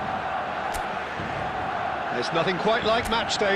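Steady stadium crowd roar from the football video game eFootball, a broad wash of noise on match day, runs beneath a commentator's voice, swelling slightly toward the end.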